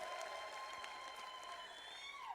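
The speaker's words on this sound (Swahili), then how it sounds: "Pigeni makofi jameni." Steady applause from an audience at a political gathering addressed by UDA chairperson Governor Mbarire, faint and even throughout, with a sustained tone running beneath it.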